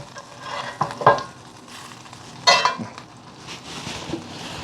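Rib eye steak frying in a pan of butter and oil, with a steady sizzle and a few louder spits and stirring or scraping touches, heard alone up close.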